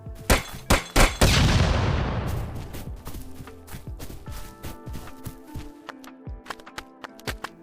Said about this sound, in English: Finally, I added explosion particles and sound effects, and now it's ready to be placed in the final level.